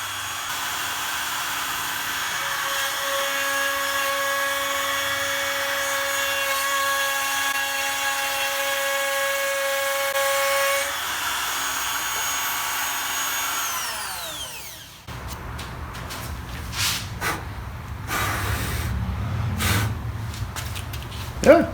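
A Makita RT0701CX7 1-1/4 HP compact router with plunge attachment runs as a steady loud whine, then spins down and gives way to irregular cutting noise as it plunges into wood.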